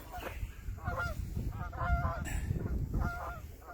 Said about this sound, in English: Oh, there's a Canada geese going by.